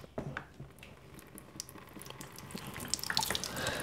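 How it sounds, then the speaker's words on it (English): Water is poured over hair above a bathroom sink, a close, continuous trickling splash with scattered drips and wet squishes as it runs down into the basin. "as I pour the water, I'm rubbing it on my hair."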